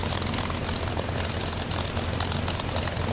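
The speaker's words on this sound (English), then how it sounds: "That engine sounds like it's about to die." A propeller aircraft engine in the Warbirds video game drones loudly and continuously, a dense rough roar with a low throbbing hum, heard alone without speech.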